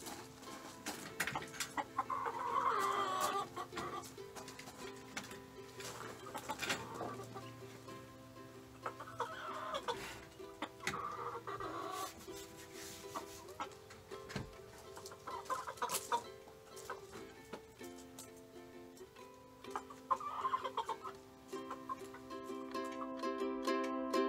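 Backyard chickens cluck and murmur near a newly built perch, soft repeated clucks in loose bursts over about twenty seconds with no talking.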